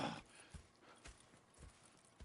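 Horses clip-clopping in the Red Dead Redemption 2 video game, a faint, steady series of hoof thuds at a walking pace with no talk over them.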